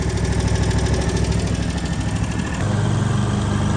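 A lawn mower engine drones steadily and loud up close, mowing very tall grass at a four-inch cutting height on hilly mountain ground, with a slight shift in tone partway through.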